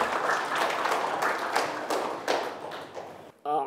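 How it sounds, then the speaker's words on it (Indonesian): An audience applauds at a televised religious recitation competition, a dense burst of clapping that thins out toward the end before a voice briefly speaks. "Boleh beri tepuk tangan sekali lagi untuk Yusuf?"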